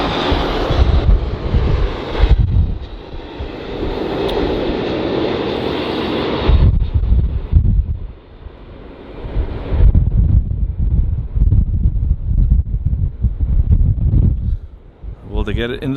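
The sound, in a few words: Iberia Airbus A330-200 airliner landing at LAX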